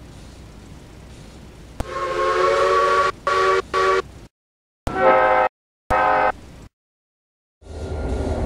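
Steam locomotive whistle, number 836, sounding in several loud, sustained blasts broken by short gaps, with a breathy steam hiss around the tones.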